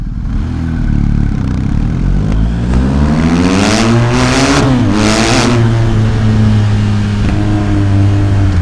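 A BMW R 1250 GS Adventure boxer motorcycle with an Akrapovič exhaust revs hard and accelerates from a standstill, pitch climbing through gear changes, loud and close throughout.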